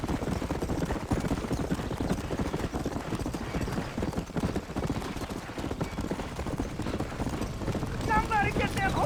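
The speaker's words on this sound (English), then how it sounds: "Somebody get them horses out!" Horses clip-clop and whinny in a burning barn in the Red Dead Redemption video game, dense continuous hoofbeats under crackling commotion, with voices shouting over them.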